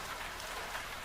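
Steady rain falls in a dense, continuous hiss of drops, even and unbroken, with no voices or other sounds over it.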